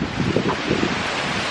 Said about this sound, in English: It's windy, you could probably not hear me